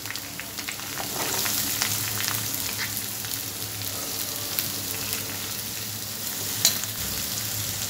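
Onion and garlic fry in oil in a pan, a continuous dense sizzle that stays close and even throughout, with a sharp crackle or clink near the end.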